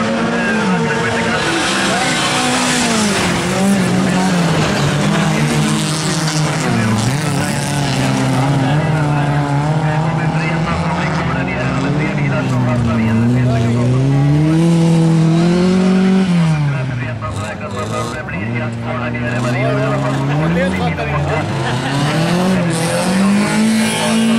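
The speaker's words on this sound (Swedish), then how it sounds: "vi ser att det är nummer 7 Filip som kommer med bra" Folkrace cars race on a gravel track, engines revving and wailing as they shift and corner, with some tire scrabble, loud and continuous under a commentator's speech.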